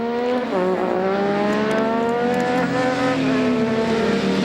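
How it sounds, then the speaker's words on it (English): A 900cc Ducati race motorcycle at a street race in Greymouth blares loudly and steadily close by, its engine note climbing and shifting pitch as it pulls hard, with no talk over it. "The big wheelie, that's the 900cc machine."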